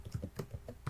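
Quick bursts of keystrokes on a computer keyboard, about eight light clicks in under a second, close and alone with no talking.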